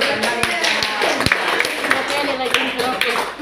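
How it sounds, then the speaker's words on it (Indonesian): Hands clapping in a classroom or meeting room, distinct sharp claps standing out irregularly over steady talk and room noise, moderately close. "Tepuk tangan dulu."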